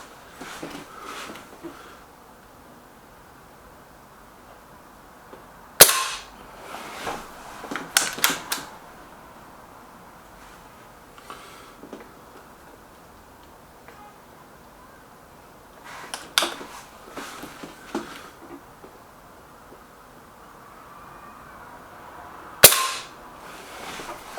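A Lee Enfield Sentry air rifle fires test shots at a target, giving a few sharp isolated cracks separated by long quiet gaps, each followed by clicking and handling of the rifle.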